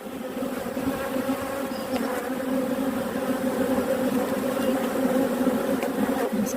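Honeybees drone around an open hive during an inspection of a blue hive with a new queen, a dense, steady, close buzz that holds at an even loudness throughout.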